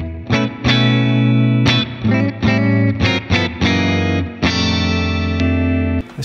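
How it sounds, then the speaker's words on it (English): An electric guitar played through a Valeton GP200 multi-effects processor with heavy reverb, loud chords and notes ringing out and washing together, with short breaks between phrases. "turn that reverb down a bit. It's just flooding a little bit."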